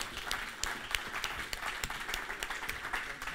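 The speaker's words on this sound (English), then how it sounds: "Please, big warm applause." Fairly faint applause from a conference audience welcoming a speaker at an open-source workshop, a continuous patter of clapping with a few sharper, closer claps standing out.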